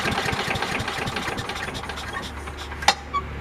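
Small Craftsman leaf vacuum chipper engine running at a steady mid-pitched idle, close by, with a brief sharp click near the end.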